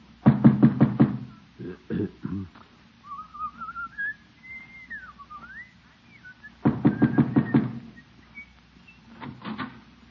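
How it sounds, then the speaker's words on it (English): Knocking on a door in an old radio comedy, several quick rapping bursts of knocks near the start and again later, with a whistled tune drifting between them. "Just knock on her door and get it over with."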